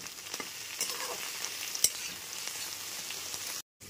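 Okra with turmeric stir-frying in a pan over a medium gas flame, a continuous soft sizzle broken by scraping and clinking stirring strokes. No one speaks, and the sound cuts off abruptly near the end.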